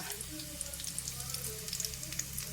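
Fish fries in a pan with a soft, steady sizzle and scattered small pops and crackles, fairly faint throughout.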